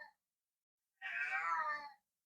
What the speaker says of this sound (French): désolée pour mon chat